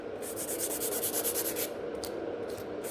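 A natural nail is filed during a gel manicure, giving steady, close, rhythmic rasping strokes that run fast and even, then break into a few separate strokes toward the end, with no talking.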